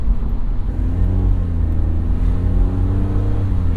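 Engine of a 2006 BMW 330Ci E46 with automatic transmission, heard from inside while driving under light throttle: a steady, smooth low drone with gently rising pitch, loud and continuous throughout.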